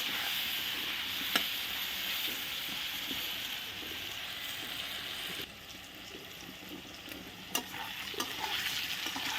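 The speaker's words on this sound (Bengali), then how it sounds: "আমি একদম আলুগুলো ভেজে নেব" Potatoes frying in a pan with cloves, a steady loud hiss of oil with occasional scrapes and taps of a stirring spoon, close up and without talk.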